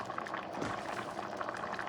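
Rice with shrimp bubbles in a big pot, a soft, steady low boiling with gentle popping, faint and close, no voices.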